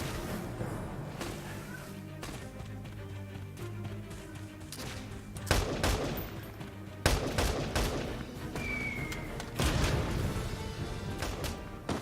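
Bursts of gunfire in the video game Valkyria Chronicles 4, several sharp shots and volleys spread across a quiet backdrop of game music and ambience, fairly faint overall.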